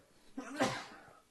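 A person sneezes once during a gaming podcast: a short sharp intake followed by a burst of breathy noise, close and moderately loud, in an otherwise quiet room.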